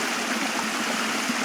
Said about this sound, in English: Very reassuring sound, and what a lovely place to live, right by the river.